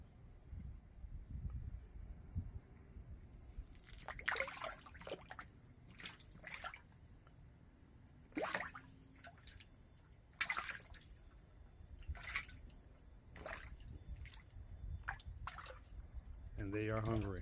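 Bluegill in a 100-gallon outdoor aquaponics tank splash at the surface while eating tomatoes, scattered sharp wet slaps and drips in irregular bursts, with a person talking between them.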